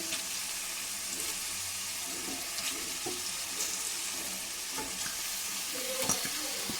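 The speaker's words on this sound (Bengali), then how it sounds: "আগে থেকে রাখা ম্যারিনেশন করা চিকেনগুলো আমি এর মধ্যে দিয়ে দিলাম" Marinated chicken for methi chicken fries in oil in a pan. A faint, soft sizzle runs under scattered clinks and scraping as it is stirred, with no voices.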